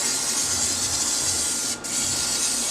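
A continuous spray hiss from an aerosol can of spray butter, steady and close, with a momentary break before resuming.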